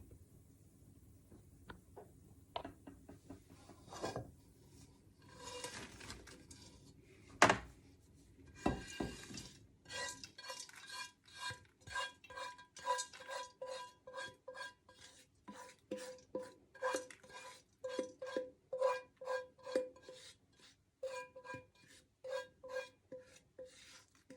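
Dry fruit mix tipped from a container into a box: scattered thuds and clinks at first, then a long run of quick rattling, rasping rustles as the pieces slide and tumble, fairly close and moderately loud.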